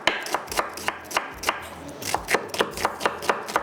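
A small onion is chopped with a knife on a board, making about fifteen sharp, irregular strikes that sound close and distinct over a quiet kitchen background, with no talking.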